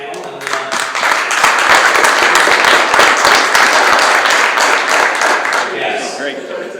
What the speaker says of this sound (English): I'd like to give a round of applause to our panel.